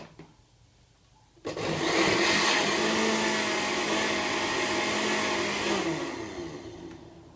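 A blender mixing a water-based herbal mixture switches on with a sudden loud whir, runs steadily for several seconds, then winds down, with no talking.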